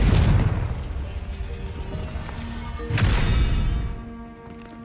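A Confringo fire spell from the Hogwarts Legacy video game goes off with a loud, close booming burst, another sharp blast hits near the three-second mark, and a rumbling roar runs between them.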